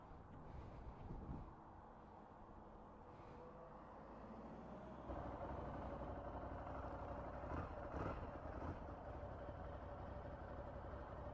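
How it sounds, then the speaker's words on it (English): A Ducati Scrambler motorcycle engine idling with a low, steady rumble that grows slightly louder partway through, with faint mechanical clatter. "Quite quiet engine sound."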